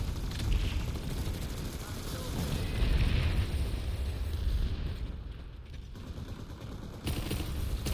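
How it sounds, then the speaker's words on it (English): Gunfire in Planetside 2 on PS5, dense rumbling bursts of shots and booms running steadily throughout, loud and continuous with a brief lull near the end. "They told me to burst fire, so I do."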